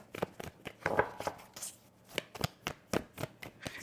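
Tarot cards are shuffled by hand in a run of quick, crisp riffling slaps and flutters, close and irregular, with no talking.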